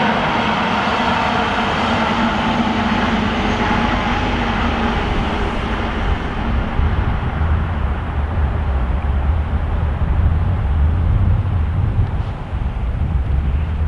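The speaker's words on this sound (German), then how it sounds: "Diese V90 fährt an zwei Tagen in der Woche, an drei Tagen glaube ich, nach Lohr am Main." A DB V90 class 294 diesel freight locomotive moves along the railway at Gemünden am Main, a loud, continuous rumbling and rolling drone close by with wind buffeting the microphone, with no talk over it.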